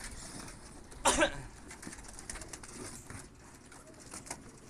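Pigeons in a loft cooing softly nearby with a brief burst of fluttering wings, over a low background rustle.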